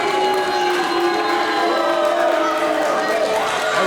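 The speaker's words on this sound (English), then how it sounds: "Little pulse of the crowd here." A wrestling event crowd murmurs and cheers as a steady background wash, while commentators talk over it.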